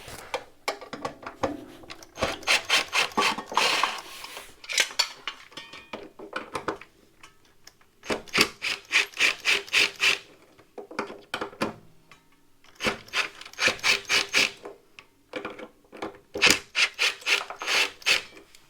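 Two screws being removed during an RV solar setup, giving repeated bursts of gritty, rhythmic ratcheting scrapes separated by short pauses, close and fairly loud, with no voices.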